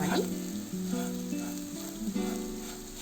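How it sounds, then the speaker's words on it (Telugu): Bitter gourd frying in a pan on low flame, a close sizzle with repeated stirring scrapes and soft clinks across a few seconds. "ఈ విధంగా ఫ్రై చేసుకోవాలి."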